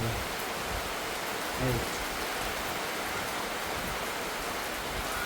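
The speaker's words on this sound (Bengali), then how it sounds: "বৃষ্টি নেমে গেল চারপাশে অস্থির অবস্থা" Dense, steady rainfall roars evenly throughout, with a faint murmur of a voice briefly surfacing beneath the downpour.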